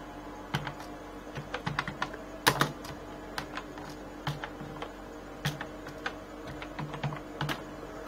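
Fingers tap a computer keyboard in a quiet room: sparse, uneven clicks of individual keys with short pauses between them and one sharper, louder strike, close and fairly soft.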